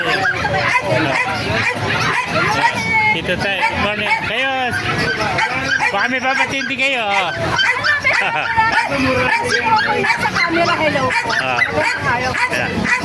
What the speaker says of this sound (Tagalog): Nagkaharap tayo ng mga gandang tuta